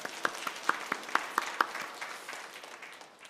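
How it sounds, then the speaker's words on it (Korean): A congregation at a Korean church worship service gives a short burst of scattered hand claps, a handful of distinct sharp claps that thin out and fade into room ambience. "하나님께 감사의 박수, 영광의 박수 한번 올려드립니다"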